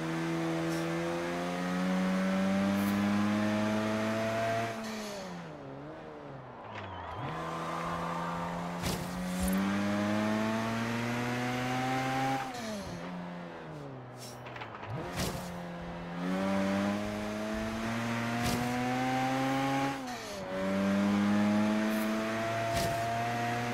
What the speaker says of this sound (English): that rotary engine, holy cow.